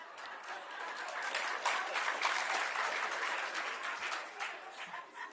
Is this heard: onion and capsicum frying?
no